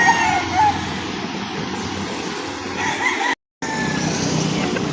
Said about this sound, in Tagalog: marami po ngayon dumating na manok